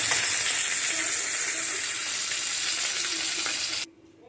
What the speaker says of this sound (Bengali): এই মাছগুলো হালকা করেই ভাজবো।